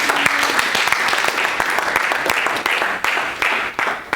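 A church congregation applauds during a deliverance prayer service, with dense, close, lively clapping that runs steadily and tapers slightly toward the end.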